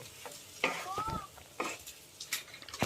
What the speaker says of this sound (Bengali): যে বাদামটা ভেজে রেখেছিলাম বাদামটা দিয়ে দেব। এবার ভালো করে মিক্স করে দেব।